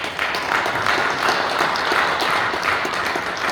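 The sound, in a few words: applause at an ordination ceremony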